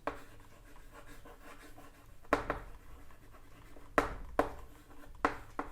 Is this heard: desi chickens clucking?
no